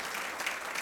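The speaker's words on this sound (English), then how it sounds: "Please give them a round of applause as well" Brief, dense audience applause at a civic event honoring the Torrance mayor and city council, a steady wash of many hands clapping with a faint voice underneath.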